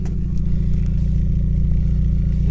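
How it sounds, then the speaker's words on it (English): A Mazda Miata with a Raceland header, test pipe and Manzo catback exhaust with a 4-inch tip idles close by, a loud, steady low burble with an even pulsing rhythm. "So this is what the exhaust sounds like idling."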